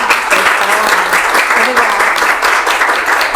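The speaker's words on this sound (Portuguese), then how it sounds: "eu e a Arisa, a gente estava querendo era fazer uma salva de palmas depois da fala da doutora" Applause in a small studio during a psychoanalysis podcast, a steady close patter of clapping that runs throughout with voices mixed in.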